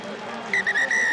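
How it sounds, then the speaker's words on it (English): A referee's whistle sounds for half-time at a rugby match between Leicester and Newcastle, a short shrill blast or two heard faintly over a murmuring crowd. "reception in the crowd for the half-time whistle"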